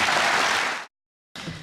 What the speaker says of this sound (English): Let's have a round of applause for our honored guests